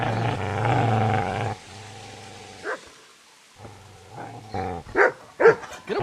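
A dog in the medieval game Kingdom Come: Deliverance barks and growls, a steady rumbling growl giving way to several sharp, loud barks near the end, against a quiet game backdrop.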